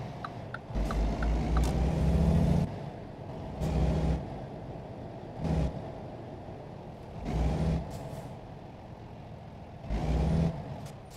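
Truck in American Truck Simulator, a steady low engine rumble broken by repeated louder bursts of low-pitched engine roar or air hiss every couple of seconds, with no talking.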